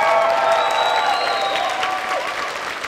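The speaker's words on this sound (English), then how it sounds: "let's give it one big round of applause for the class of" A high school band concert audience breaks into a round of applause with some cheering for the graduating class, dense clapping with a few whistles and calls that gradually eases off.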